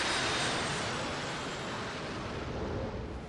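An F-18 Hornet jet lands, its engine roar a steady, dense broadband rush that stays loud and even throughout, with no voices.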